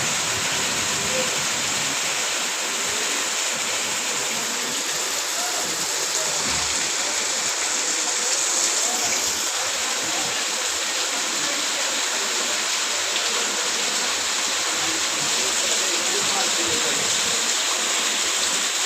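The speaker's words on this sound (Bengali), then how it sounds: "অনেক খারাপভাবে বৃষ্টি পড়তেছে" Heavy rain in Parshuram, Feni, pouring down in a steady, dense roar that stays loud and unbroken throughout.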